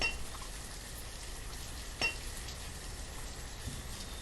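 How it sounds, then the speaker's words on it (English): Steady rainfall in the city-building video game Banished, a constant hiss of downpour with no voices and one brief louder patter about halfway through. "It's raining like in the shower."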